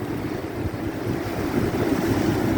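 Big ocean waves crash and surge against a rock pier in a continuous, loud, rumbling wash, with wind buffeting the microphone and no voices.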